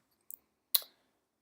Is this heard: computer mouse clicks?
yes